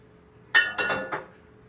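Glass containers clinking together while preparing cashew cream: one sharp chink followed by two softer clinks in quick succession, close and clear against a quiet background.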